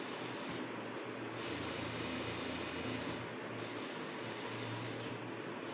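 A sewing machine stitches a churidar in steady running bursts, a continuous whirring drone that stops briefly twice between passes, close and fairly loud with no talking.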